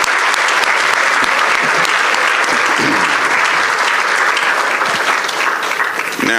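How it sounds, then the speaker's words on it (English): Steady, dense applause from an audience at a judicial candidate forum, filling the room evenly for several seconds and easing slightly near the end. "let's give both of them a round of applause"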